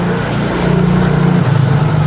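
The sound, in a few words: motorcycle engine being worked on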